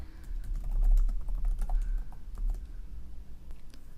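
Python code being typed on a computer keyboard: a steady run of quick, close key clicks with uneven rhythm and a few louder keystrokes, no voices.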